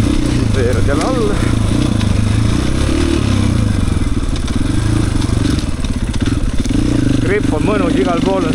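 An enduro motorcycle runs through a muddy, root-covered forest trail, its engine droning loud and close the whole time. Someone talks over the engine noise at a few points.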